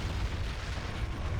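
An explosion rolls out during a Skylords Reborn match, a dense, booming low rumble that holds steady and loud for its short length, with no talk over it.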